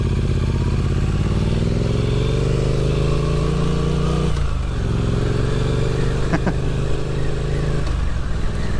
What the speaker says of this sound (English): Yeah, it's a great beginner motorcycle.